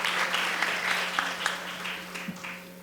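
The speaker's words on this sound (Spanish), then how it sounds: "Y a don Alejandro Fernández, del Financiero, también un aplauso muy fuerte" A conference audience at a Latin university event in San Pedro claps steadily, a fairly faint, even patter of many hands with a few sharper claps standing out, fading slightly toward the end.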